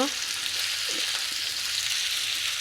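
Kashmiri chili, poppy seed and cashew paste frying in oil for a cauliflower rezala, a steady close broadband sizzle that holds even throughout, with a few faint clinks of a utensil near the start.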